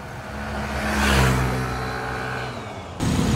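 A Yamaha NMAX scooter with a stock pipe and modified CVT revs up close and loud, its engine note rising to a peak and easing back, then holding a steady throttle with a slight jump near the end.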